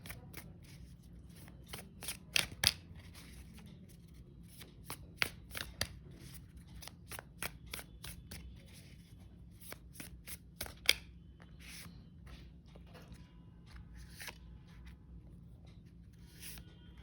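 Tarot cards are shuffled close by in quick bursts of riffling and soft snapping, with short pauses between bursts, quiet overall and with no talking.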